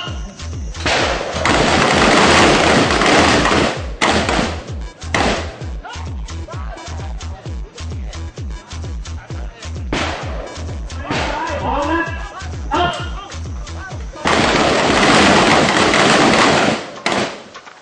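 Gunfire at a shooting range: loud, sharp bursts of rapid shots come in clusters separated by quieter gaps with scattered single cracks, while people talk and call out between volleys.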